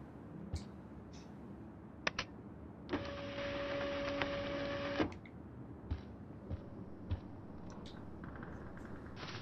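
A printer in Life is Strange runs for about two seconds with a steady mechanical whir and hum, framed by scattered clicks and small handling knocks in a quiet room.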